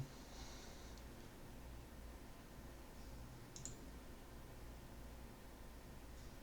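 A computer mouse clicks while someone works in Blender, with a handful of faint, isolated clicks scattered over a quiet background hiss and no talking.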